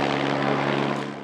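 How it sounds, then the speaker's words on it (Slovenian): Helicopter passing over a rural road near Majšperk as a cycling race caravan approaches, a loud, steady rotor and engine drone held at even strength throughout, no voices. "Ko pa je izza ovinka bilo slišati in videti helikopter"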